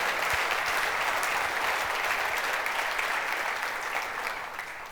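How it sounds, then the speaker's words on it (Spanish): A church congregation applauds during a sermon, a dense, steady wash of clapping that holds for the whole stretch and only begins to thin slightly near the end. "Dale un aplauso al Señor ahí por eso."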